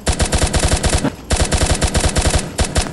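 Rapid automatic gunfire in the Pixel Gun 3D video game, two loud bursts of evenly spaced shots separated by a brief pause, with no talk.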